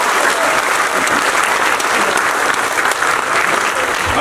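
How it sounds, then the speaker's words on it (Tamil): Dense, loud audience applause for a film's music director at a movie event, continuous and close throughout with no break. "நல்லா கைத்தட்ட கொடுங்க."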